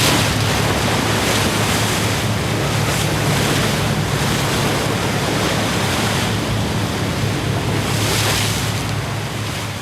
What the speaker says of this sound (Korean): 바다는 폭풍을 이구하듯 거칠어지고 있었다.